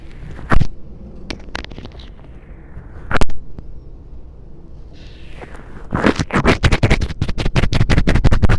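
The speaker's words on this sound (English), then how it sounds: "this one is a clear slime with just a little bit of a clay lily pad" Clear slime with a bit of clay lily pad mixed in is squished and pressed, giving soft wet crackles and pops, then a dense burst of rapid sticky clicking near the end, close and alone.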